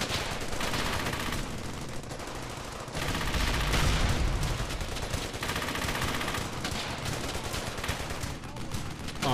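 Dense, continuous gunfire from the World War II shooter Brothers In Arms: Hell's Highway, with overlapping bursts and rapid shots filling the whole stretch and a heavier blast near the middle.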